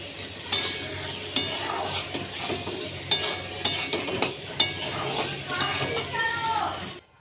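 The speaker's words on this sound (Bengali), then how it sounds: "সব কিছু এর মধ্যে দিয়ে দিলাম এখন এটাকে ভালো করে আমি কষাবো" Spices with ginger, garlic, chili, turmeric, coriander and bay leaf frying in a pan, a steady sizzle punctuated by sharp spatula knocks and scrapes against the pan at regular intervals.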